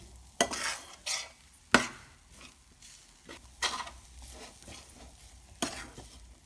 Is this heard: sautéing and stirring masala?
yes